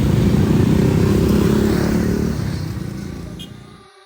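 Motorcycles pass through a one-way gate on the road toward Lembah Anai in West Sumatra, their engines making a loud, dense rumble that holds steady and then fades away toward the end.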